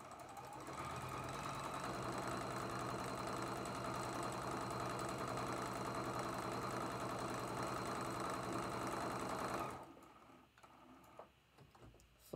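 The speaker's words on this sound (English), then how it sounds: "We're going to sew down this side." A sewing machine runs steadily for about ten seconds, stitching a seam on a traditional bear tracks quilt block, with a dense mechanical whir that cuts off abruptly, leaving a quiet room with small handling clicks.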